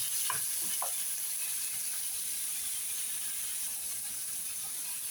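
Tomatoes frying in plenty of oil in a pan give a steady close sizzle, with a few brief scraping stir sounds near the start. No voices.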